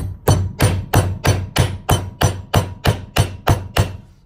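A bare hammer knocks down a nut on a Classic Mini front hub during a front bearing and swivel rebuild: about a dozen sharp, evenly spaced metallic blows, loud and close, with no talk.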